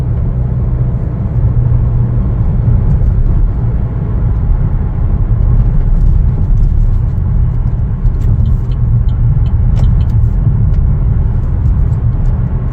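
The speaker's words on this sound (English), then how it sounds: "Take it for a test drive. Here we go. Drive super nice." A Chevrolet Trailblazer RS with a panoramic sunroof on a test drive gives off a loud, continuous low rumble of engine and road noise from inside the cabin, steady throughout with no talking.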